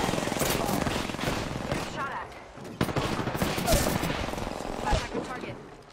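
Rapid bursts of automatic gunfire in the battle royale game Apex Legends, dense and loud, with several volleys overlapping and a sharp crack near the middle.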